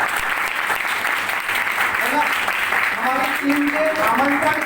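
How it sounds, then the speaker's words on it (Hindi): An audience applauds guest Mithilesh Sahu at a company event, steady hearty clapping with voices talking over it and rising into the foreground partway through. "हमारे प्रिय मित्र मिस्टर मिथिलेश साहू सर के लिए बहुत जोरदार ताली होनी चाहिए।"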